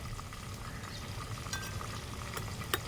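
Cumin seeds sizzling in hot oil on a wood-fired stove, a steady, quiet frying hiss with a few faint clinks of a utensil.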